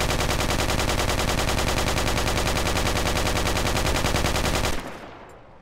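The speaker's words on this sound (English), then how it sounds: "the heavy machine gun that the machine gunner uses is also able to damage vehicles" A heavy machine gun in the video game Project Reality fires one long continuous burst, rapid and loud, then cuts off with a short decaying echo.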